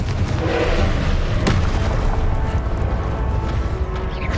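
The Confringo explosive spell in Hogwarts Legacy, a loud booming blast amid dense combat noise and rumble, sustained at high level throughout.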